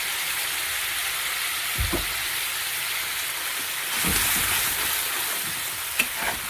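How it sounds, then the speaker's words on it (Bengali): A spice mix frying in a pan gives a steady hiss and sizzle throughout, with a few soft scrapes and stirring knocks near the start, middle and end. "মশলাটাকে একটু ভালো করে ভেজে নেব"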